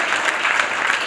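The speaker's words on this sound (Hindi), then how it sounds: "जरा इनके लिए जोरदार तालियां" Applause from an audience at an award ceremony honouring meritorious students in Mathura, a steady, dense clapping that fills the whole short stretch at close range with no talk over it.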